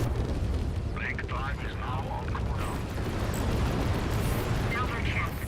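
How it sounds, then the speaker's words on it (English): Rocket volley in the space combat game Fractured Space striking an enemy ship, heard as a dense, continuous rumble of explosions with crackling bursts throughout. "Then a simple ambush rocket volley combo will finish the job."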